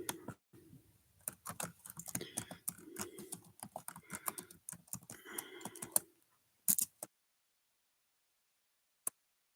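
Typing on a computer keyboard, a quick run of light, close clicks for several seconds, then a few isolated taps after a pause in a quiet room.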